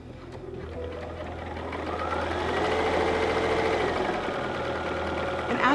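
A Bernina computerized sewing machine runs a lengthened triple stitch, giving a close, steady mechanical whir with a rapid needle rhythm that gradually grows a little louder throughout. No one speaks.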